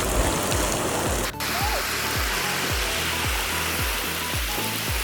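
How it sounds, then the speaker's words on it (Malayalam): Heavy rain falling in Thalassery, a loud steady wash of noise close by, with a low rhythmic mechanical hum pulsing underneath. "പോരാത്തതിന് നല്ല മഴയോ"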